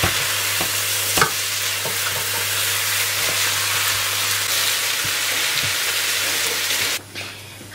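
Onions and garlic sauté in a pot with a loud, steady sizzle and occasional faint clicks of stirring, ending abruptly as the noise drops away.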